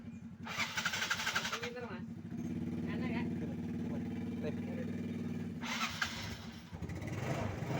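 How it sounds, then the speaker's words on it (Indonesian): A motorcycle engine with a newly restored battery starts and idles steadily at close range, with two louder revving bursts near the start and again near the end, and a voice briefly heard. "ini akinya sudah normal kembali ya, sudah starter jreng kembali"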